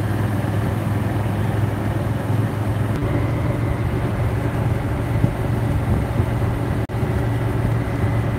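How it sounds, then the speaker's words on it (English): A golf cart rolls along in The Villages with a steady, fairly loud motor and road hum under a constant low drone, continuous throughout, with one brief dip near the end and no talking. "I haven't done a golf cart ride in so long."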